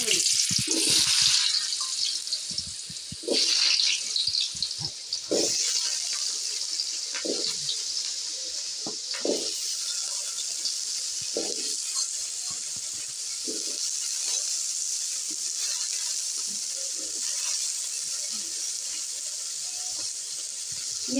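Pieces of elephant foot yam hit hot oil for a fry, giving a loud, steady sizzling hiss with scattered pops and spatters that settles into a continuous crackle for the rest of the time.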